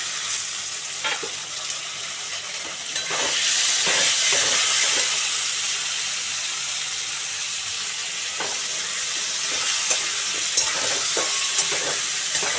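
A steady, crackling sizzle of potatoes and tomatoes frying in a hot pan, with a few clicks and scrapes of stirring.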